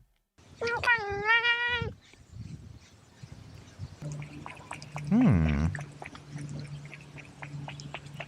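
A cat gives one long, loud, wavering meow up close, then after a pause some scratching and rustling follow, with a deeper drawn-out yowl mixed into a mechanical hum.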